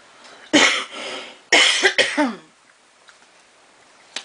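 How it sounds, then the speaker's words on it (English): Two bursts of harsh, close coughing, a single cough followed by a quick cluster of three, then near silence with a faint click. "please excuse my cough."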